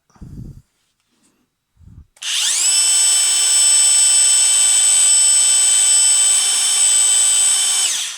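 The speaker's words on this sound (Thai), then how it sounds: "โหมดเจาะธรรมดานะครับ" A cordless rotary hammer drill, a Bosch GBH 180 LI in plain drilling mode, runs steadily with no load, a loud high-pitched whine. It follows a few brief soft knocks and holds for about six seconds.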